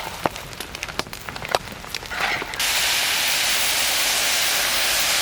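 Heavy monsoon rain near a thatched hut, heard first as scattered drops and sharp taps, then building into a loud, steady hiss of downpour that fills the rest of the clip.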